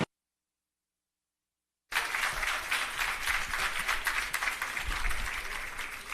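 An audience applauds at the official opening of an agro park, the clapping starting abruptly after a silent gap and then continuing as a steady, dense patter at moderate volume to the end.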